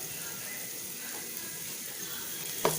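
Spring onion greens sautéing lightly in oil give a soft, steady sizzle, faint and continuous, with a brief clink of a utensil near the end, during veg fried rice preparation.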